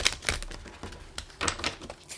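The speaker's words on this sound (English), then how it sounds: "Do about 2 more shuffles." Tarot cards are shuffled close up, a series of soft, irregular papery flutters and taps in quick bursts.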